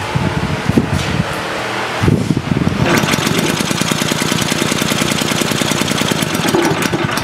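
An engine running on HHO gas sounds a rough, even hum at first, then settles into fast, loud, rhythmic chugging pulses that carry on steadily to the end.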